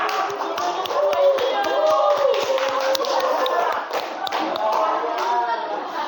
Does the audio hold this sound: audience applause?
yes